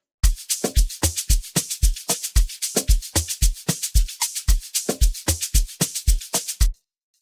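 An Amapiano drum beat built in FL Studio, with punchy kicks and crisp shakers looping in a steady, driving groove of evenly spaced hits for about seven seconds, then stopping abruptly.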